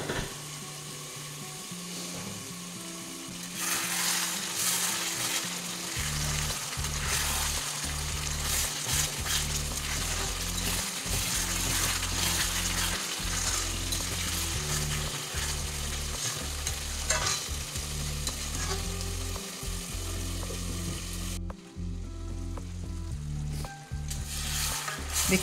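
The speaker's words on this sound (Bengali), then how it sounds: "এবার এটা ভালো করে কষে নেবো যতক্ষণ এর থেকে তেল ছাড়ছে।" Spicy chicken masala with green chillies sizzles and fries in oil in a pan, with repeated scraping stirs of a spatula over steady crackling, close and continuous.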